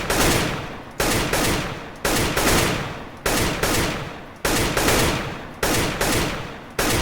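Desert Eagle pistol shots in a shooting video game, about ten loud sharp reports fired singly in a fairly even rhythm, each with a short decaying tail, alone without talk.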